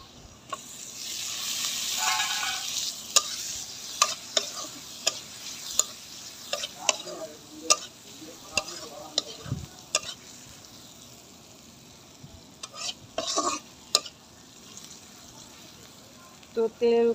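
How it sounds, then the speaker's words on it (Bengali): Loitta dried fish fries in oil with turmeric and chilli powder, giving a steady close sizzle broken by repeated sharp clicks and scrapes from stirring. "তো তেলের উপরে আমি 2-3 মিনিট এরকম একটু ভাজা ভাজা করে নিব।"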